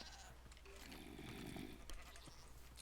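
Minecraft goats bleat faintly in the game, with a wavering bleat in the middle that is partly masked by a noisy, hissy background.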